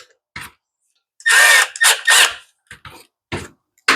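Short bursts from a small driver snugging T25 screws into the plastic carburetor cover of a Homelite leaf blower: three longer whirring runs in the middle with brief ticks and squeaks around them, close and clear, no talk.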